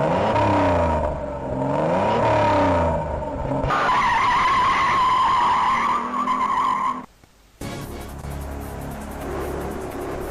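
Racing car skidding in the Amiga isometric driving game Aerial Racers: loud synthesized engine drone with squealing tire slides and pitch sweeps, a sudden brief drop near the end before the engine noise resumes.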